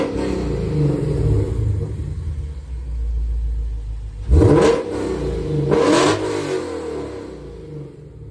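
Lexus RC F with PPE headers revving hard, a loud raspy exhaust over a rumbling idle, with two sharp throttle blips that rise and fall, heard close and with no talk.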